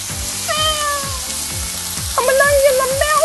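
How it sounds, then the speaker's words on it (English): Steady crackling sizzle of bacon frying in a pan, with high, wavering voice-like tones rising over it partway through. "do you hear that sizzle?"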